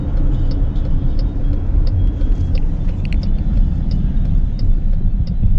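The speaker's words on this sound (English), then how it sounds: "we are about to drive across the bridge to Astoria" A car drives across the bridge into Astoria, Oregon, with a loud, steady road rumble and engine drone filling the cabin and faint ticking on top, with no talking.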